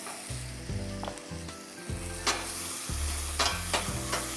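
Garlic and ginger paste sizzles and fries in a pan for a Bengali prawn dish, a steady close hiss under low rhythmic stirring bumps, with no voices.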